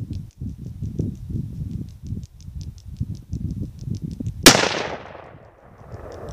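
A single sharp, loud rifle shot from a Mossberg MVP Patrol .308 cracks out at an outdoor range, its blast decaying into a long rumbling echo, preceded by steady rustling and handling noise.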